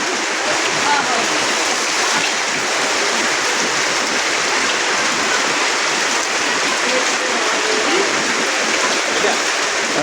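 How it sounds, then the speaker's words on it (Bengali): Heavy rain pours down in a dense, unbroken roar of even, loud hiss that never lets up, with no voices standing out. "যেহেতু প্রচুর বৃষ্টি হচ্ছে"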